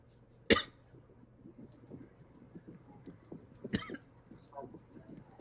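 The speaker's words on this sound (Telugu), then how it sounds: "నాకు దగ్గు వచ్చేస్తుంది" Two sharp, close coughs, one near the start and another a few seconds later, with quiet shuffling and faint murmurs between.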